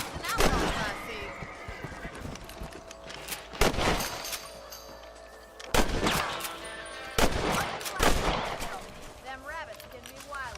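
Rifle shots at rabbits in the western video game Red Dead Redemption: four or five sharp, loud single cracks spaced a couple of seconds apart, with voices talking in between over faint outdoor ambience.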